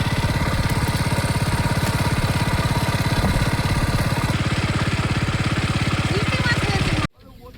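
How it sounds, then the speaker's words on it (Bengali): An engine-driven water pump set up to drain a large pond chugs loud and close with a fast, even rhythmic thrum, running steadily before cutting off abruptly near the end. "আজকে এই বড় ঝিলে জল ছাঁচা মেশিন বসানো হয়েছে"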